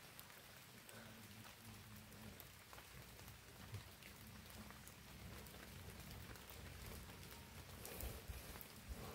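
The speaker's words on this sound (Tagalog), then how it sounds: "nagpapasilong muna kami kasi bumuhos yung malakas na ulan" Heavy rain pours down steadily in a dense, continuous hiss with scattered drops pattering, with no voices.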